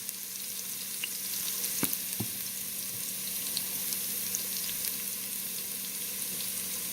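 Dry spices including cayenne pepper sizzle steadily in a hot pan for Jamaican ital ackee, a constant close frying hiss with a few faint clicks and taps.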